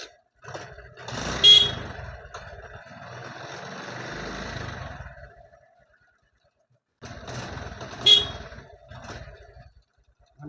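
A 2016 TVS XL100 moped with a kick starter fires up on one kick and idles with a small buzzing engine note, close by; a second start follows after a short quiet gap.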